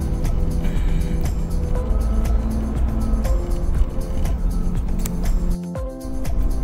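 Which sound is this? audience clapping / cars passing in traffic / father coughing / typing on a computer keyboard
cars passing in traffic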